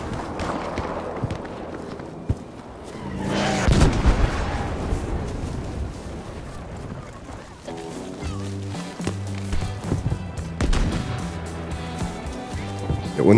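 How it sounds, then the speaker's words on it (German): Gunfire and battle noise in the shooter game Battlefield V: bursts of shots and heavy booms with a rushing swell midway, footsteps and rumbling beneath, all fairly close and continuous. "Hier unten schießt einer."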